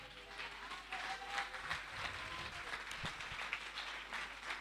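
A church congregation applauds and cheers during a sermon, a dense, continuous wash of clapping and shouting voices at moderate, steady loudness with a few sharper claps standing out.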